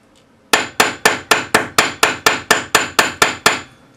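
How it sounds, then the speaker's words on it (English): A cross peen hammer strikes a folded metal leaf fourteen times in a quick, even rhythm, each sharp ringing blow close and loud, with no talking. "we're going to take our cross pane hammer, and opposite the fold we're going to just go all the way down"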